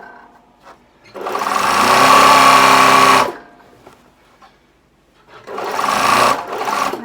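A sewing machine stitches along a garment seam, matching at the armhole, in two bursts: a long loud run of rapid mechanical whirring, a pause with faint handling noise, then a shorter run.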